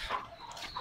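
Golden buff chickens cluck softly nearby in a few short calls, fairly quiet with little else around them.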